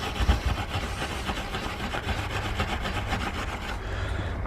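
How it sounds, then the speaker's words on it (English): Rust being scrubbed off a metal garden tool, a steady rasping rub with fast repeated strokes running close and continuous, easing slightly at the very end. "It's getting a little bit of rust on it,"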